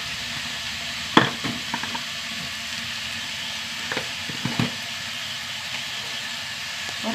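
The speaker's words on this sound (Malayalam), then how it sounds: "വഴുതനങ്ങയും തക്കാളിയും ഒക്കെ വഴണ്ട് വന്നു." Eggplant and tomato sautéing in a pan, a steady soft sizzle throughout with a few sharp scrapes and stirring clinks, close and alone with no voices.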